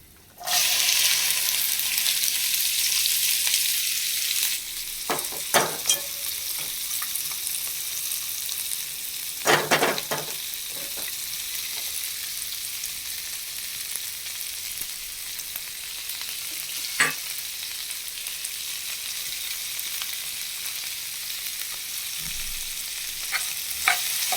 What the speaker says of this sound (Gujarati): લસણ સેજ લાલ થઈ ગયું છે એટલે હવે આપણે એમાં ભીંડો ઉમેરી દઈશું